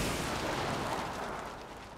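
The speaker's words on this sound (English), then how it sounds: "We should probably get out of here before our bomb blows up." Bomb going off in Saints Row, a broad, dense roar of explosion that starts at full strength and slowly fades over about two seconds, with no speech.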